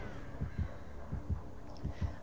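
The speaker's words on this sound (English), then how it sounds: "I hear a heartbeat, though." The killer's heartbeat in the video game Dead by Daylight thumps in a steady, low double-beat rhythm, three pairs of deep throbs over a faint hum, with no talk.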